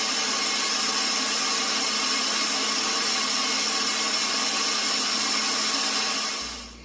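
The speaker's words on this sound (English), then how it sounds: "we're going to whisk these up until we have a nice fluffy meringue with our egg whites" Egg whites are whisked toward a fluffy meringue for lemon pudding cakes, a loud, close, steady whirring drone that runs unbroken for several seconds, then quickly tapers off.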